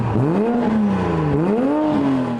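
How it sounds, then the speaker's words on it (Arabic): A 2020 Toyota Supra MK5 with its stock muffler cut out for a straight-pipe exhaust starts and revs, the engine note swelling and dipping smoothly, loud and close throughout. "بيقطعوا الشكمان الاصلي ويخلوه ستريت بايب عشان يسمعوا الفرق، وفعلا بدأوا يقطعوا في الاكزوست بالمنشار، وبعد ما خلصوا دوروا العربية"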